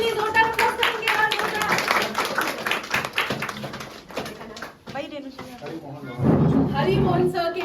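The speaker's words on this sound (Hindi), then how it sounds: "सर के लिए जोरदार अप्लॉज करेंगे" An audience at a consumer welfare programme breaks into dense clapping that rises and swells toward the end, mixed with a host's voice over a microphone.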